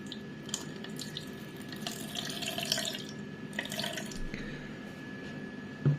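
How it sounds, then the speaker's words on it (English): Coconut water poured into a measuring jug while making a piña colada cocktail, a steady close trickle of liquid with faint splashy detail and a small knock near the end, no talking. "we'll do another one, another 60 milliliters of cocoa water"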